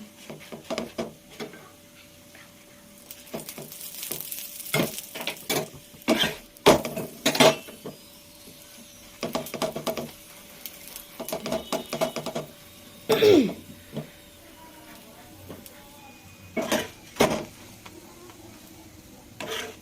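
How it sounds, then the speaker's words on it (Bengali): Parathas fry in a pan, giving intermittent scraping and clinking of a spatula and cookware in irregular bursts, with a faint steady sizzle underneath and no talking. "এখানে আমি সুন্দরভাবে লাল লাল করে পরোটাগুলো ভেজে নেব।"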